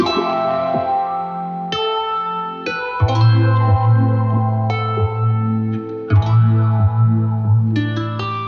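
Guitar played through an Old Blood Noise Endeavors Float filter pedal, a series of strummed chords with shimmering, swept filter tones and a deep sustained low note, repeated hits ringing loud and close.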